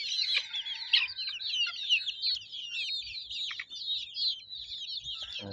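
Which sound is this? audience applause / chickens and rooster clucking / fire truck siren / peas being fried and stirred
chickens and rooster clucking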